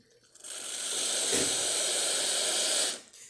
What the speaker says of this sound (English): just running the hot water to show that it is also working